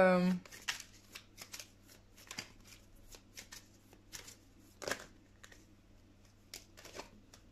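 Tarot cards shuffled for a card reading, a series of short papery riffles and taps spread across the clip, fairly quiet and close, with a low steady hum underneath.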